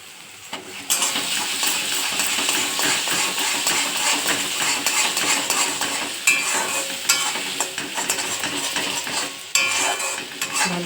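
Food frying in a pan with salt and turmeric being stirred in: steady close sizzling with frequent scraping and clinking of a utensil against the pan, growing busier toward the end.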